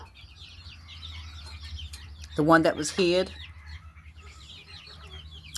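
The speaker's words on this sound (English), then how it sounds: "That's the Bantam hen that had the eight babies." A bantam hen clucks softly and repeatedly nearby while someone speaks briefly over the calls.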